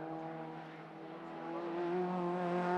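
Hot hatch race car at Knockhill accelerating out of the hairpin, a distant tonal engine note that rises steadily in pitch and loudness as it pulls away.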